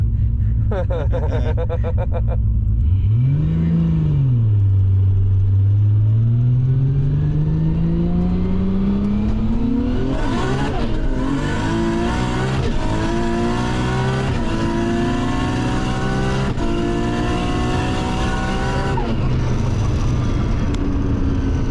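An 800 hp Nissan GT-R with a 6-speed sequential gearbox at a roll racing event, its engine roaring loud and close as it accelerates hard through rising pitch sweeps and sharp gear changes, sustained for the whole run.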